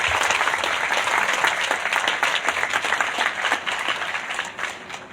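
Loud, dense applause from an audience at a parliamentary health services event, steady clapping filling the space and easing off slightly toward the end.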